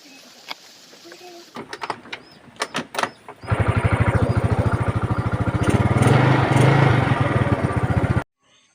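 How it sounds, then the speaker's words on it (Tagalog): A Yamaha Mio Sporty motor scooter engine cranks and catches, then runs with a loud steady buzzing idle for several seconds before cutting off abruptly, after some clattering handling noises. "So tetest na natin kung under na itong ating motor."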